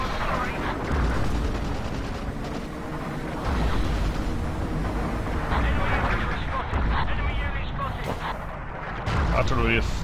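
Artillery fire in the video game Forgotten Hope 2, with heavy booms and rumbling blasts layered thick and continuous, some near and some distant, while a voice talks over the battle.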